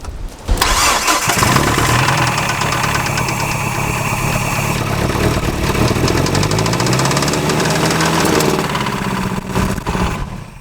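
A neglected Nissan Frontier pickup, with oil added to its cylinders, cranks over on the starter and catches. It stays loud and close, a continuous rough mechanical roar of about ten seconds with no talking.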